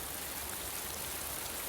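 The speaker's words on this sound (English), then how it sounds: "I wish it would stop raining." Steady rain hisses down in a Mr Men cartoon, an even, continuous wash of falling drops at moderate loudness with no voices over it.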